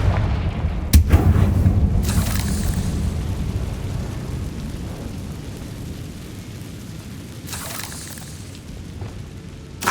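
A Confringo blasting spell detonates in Hogwarts Legacy with a heavy, close boom early on, followed by a long rumbling decay and a few softer bursts later.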